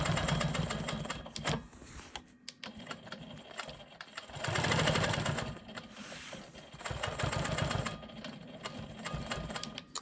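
A Quilt Maker Pro 20 quilting machine stitches straight lines in bursts of fast, buzzing motor hum. Its whirring repeatedly starts and stops, with brief handling sounds in the pauses between runs.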